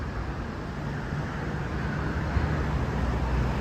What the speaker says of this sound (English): Excuse the traffic.